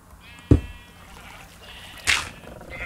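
Minecraft sheep near a covered-up cave give two short bleats about a second and a half apart, with faint game ambience between them.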